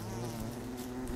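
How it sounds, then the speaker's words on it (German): Bees buzzing from an attacked beehive in the Don't Starve video game: a continuous dense droning swarm buzz, loud and steady with no talk. "Wir wollten noch das Bienennest hier anhauen."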